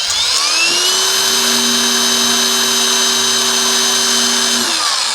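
Rotary car polisher spinning its pad in a pad washer at the lowest speed, a loud steady high-pitched whine and hum that ramps up at the start and winds down near the end.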